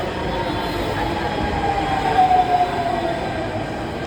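A Delhi Metro train rolls along with a steady, loud rumble of wheels on track, and a brief high wheel squeal rises and fades midway through the ride.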